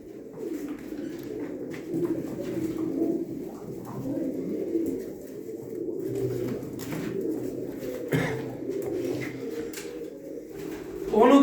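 Racing pigeons coo in low, soft, repeated bursts that run through the whole stretch, with someone speaking over them at moments.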